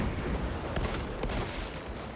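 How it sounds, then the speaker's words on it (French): Krak grenade and gunfire in the Space Marine 2 video game make a dense, loud wash of battle noise with a couple of sharp crackling bursts rising out of a continuous rumbling roar. "Je déploie une grenade crack."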